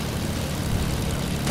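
A jump plane's engine in a video game drones steadily and continuously, a dense low rumble holding level for the whole moment with no break.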